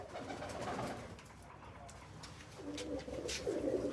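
Pigeons kept in a loft coo softly in low, throaty bursts, rising again toward the end against a steady background murmur, with no one talking.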